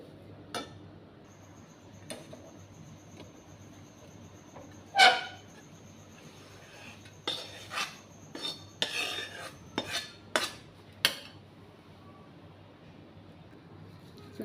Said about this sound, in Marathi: आता गॅस बंद करून आपण एका ताटामध्ये काढून घेऊ।